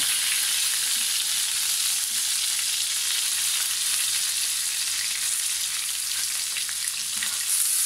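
Potato nuggets fry in a pan of hot oil, giving a continuous, even hiss and crackle at close range, with no voices heard.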